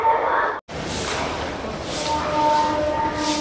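A train idles at Santragachi station's platform 2 before the Digha summer special service, with a broad hiss and hum, tonal whines, and a brief cut in the sound early on.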